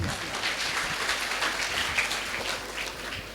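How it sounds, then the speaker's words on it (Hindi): Applause from an audience at a community gathering, a fairly faint wash of clapping heard at some distance, steady across the short span. "श्रीमान जीवराज, जोरदार तालियां।"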